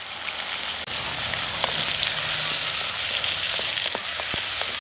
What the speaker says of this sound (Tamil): மீன் குழம்புக்கு தக்காளி சேர்த்துக்கிடுவோம்